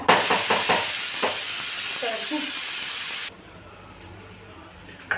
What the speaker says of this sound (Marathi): मसाले टाकल्यावर आहे ना एक मिनटं छान असं परतून घ्यायचं